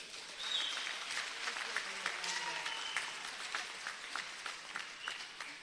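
Scattered crowd applause at an Al Jamaah provincial political rally in South Africa, a dense, steady patter of many hands somewhat distant, with faint voices and whistles mixed in.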